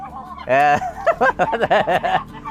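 A turkey gobbles nearby in a quick burst of warbling calls, loud and close, with a short honk-like call just before it.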